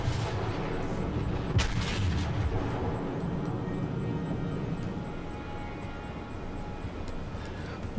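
Heavy naval guns of the battleship South Carolina fire at a destroyer in a video game, a couple of loud booming blasts early on that give way to a steady rumbling background.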